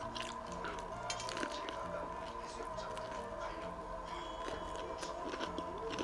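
Crispy fried chicken being chewed up close during an eating session, with moist crunching and squishy bites repeating through the stretch over faint background noise.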